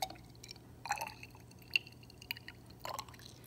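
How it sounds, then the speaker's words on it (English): Ten millilitres of water poured from a graduated cylinder into a baby food jar during a chemistry lab, faint intermittent drips and splashes over a quiet room hum. "I'm going to add 10 mils of water to my concoction here."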